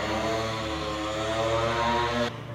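A motorbike passes by outside with a loud, steady droning engine hum that holds for a couple of seconds and then drops off sharply.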